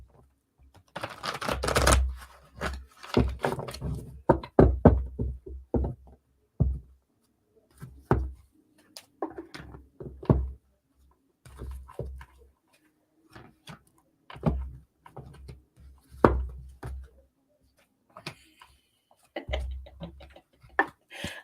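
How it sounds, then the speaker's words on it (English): Playing cards are shuffled a little away from the microphone, producing a series of crisp riffling bursts and soft taps in irregular clusters, loud at first, then sparser, with pauses of near silence between them. "you guys can listen to me shuffle for a minute"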